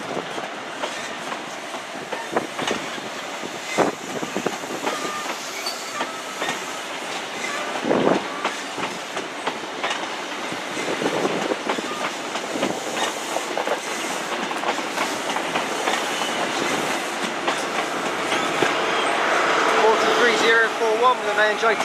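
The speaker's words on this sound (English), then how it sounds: "Also pulling in is the 11:42 arrival from London Waterloo." A passenger train pulls into Exeter St David's station on the Great Western Main Line, arriving from London Waterloo, with a steady rolling rumble, wheel clatter and faint squeals, while people talk faintly in the background.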